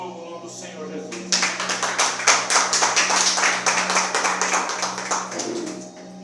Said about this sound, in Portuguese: E as palmas louvam o nome do Senhor Jesus